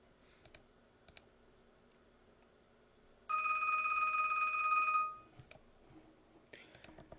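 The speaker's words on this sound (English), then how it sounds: "That was my phone that rang." A phone rings with a steady electronic tone for about two seconds in the middle, fairly loud and close, between scattered soft clicks that sound like a mouse or keyboard in a quiet room.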